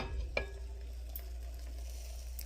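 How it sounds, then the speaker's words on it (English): Food sizzles and fries steadily in a home kitchen pan that is cooking without added water, a continuous, quiet crackling hiss with a faint clink near the start. "Can you hear that sizzle?"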